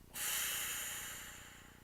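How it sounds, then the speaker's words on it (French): A deep breath drawn in through an open mouth during a guided relaxation exercise, one long airy inhale that swells quickly and then slowly fades, close and alone with no talking. "j'inspire par la bouche ouverte. Je bloque ma respiration."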